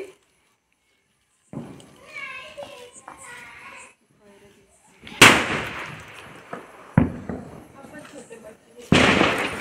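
Firecrackers going off during a Diwali celebration: several sharp, loud bangs with crackling tails, spaced a second or two apart, after a stretch of quieter moments with someone speaking nearby.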